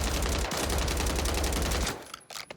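A Striker SMG fires in Call of Duty Warzone on Rebirth Island. One loud, rapid, continuous burst lasts about two seconds, then cuts off abruptly, leaving faint scattered noises.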